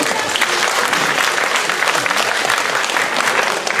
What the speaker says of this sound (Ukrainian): Давайте її поаплодуємо.